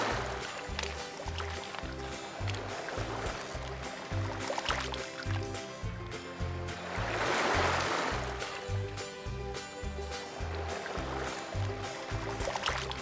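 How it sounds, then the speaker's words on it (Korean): Quiet sea waves slosh and wash, with one fuller surge of splashing midway, under a faint rhythmic low thumping, at Cheongsando island. "파도 소리 참 오랜만에 듣네요"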